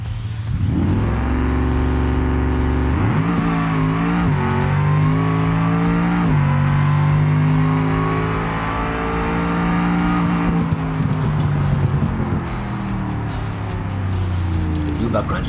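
In BeamNG, the Buuck drag car's V8 roars loudly down the strip, rising in pitch through a series of gear changes as it accelerates hard, with tire noise beneath.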